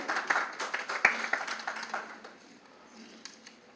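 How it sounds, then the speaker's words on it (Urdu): A small audience at an Urdu book-launch ceremony gives brief, scattered applause. Distinct individual claps come close together for about two seconds, then thin out into a faint room hush. "بھرپور تالیاں"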